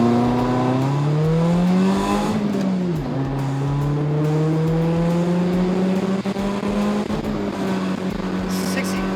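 A Honda Civic with new headers and exhaust revs hard and accelerates, its loud pitch climbing, dipping at a shift, then climbing again in a sustained roar.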